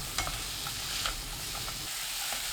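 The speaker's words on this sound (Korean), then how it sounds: "팬에 식용유 1큰술, 새송이버섯, 양파, 다진 마늘 반큰술 넣고 센 불로 볶습니다." King oyster mushrooms, onion and minced garlic stir-fry in a tablespoon of cooking oil over high heat, a steady loud sizzle broken by a few light clacks of a utensil stirring the pan.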